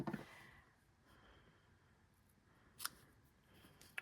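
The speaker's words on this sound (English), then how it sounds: "Okay, so then let's trim off the edges." Scissors trimming the edges of a paper card for a stamped craft project; quiet snips, with one distinct cut near the middle and another at the end over a faint room hush.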